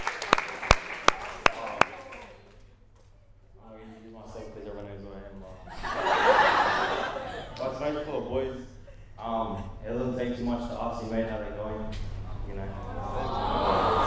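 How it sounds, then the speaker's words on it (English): A few sharp claps open, then an audience at a high school year 12 graduation chuckles and laughs while someone talks over the crowd. "Give him a big clap."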